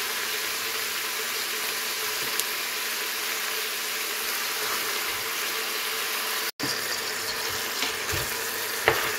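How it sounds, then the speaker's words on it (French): Chicken pieces sizzle steadily in a pan with well-seared onions for couscous, a continuous close frying hiss with a few faint stirring clicks and a brief break near the end. "Une fois les oignons bien saisis, on vient mettre la viande."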